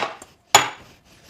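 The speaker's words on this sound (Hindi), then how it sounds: "बर्तन भी मैं ही उठाऊं।" Dishes clatter as they are picked up at home, one loud sharp clink of crockery after a softer knock, then a brief fading rattle, close and without talk.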